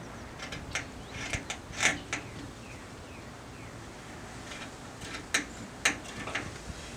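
Scissors cut through taut T-shirt fabric in two clusters of quick, close snips and crunchy clicks, separated by a quiet pause, with no talking.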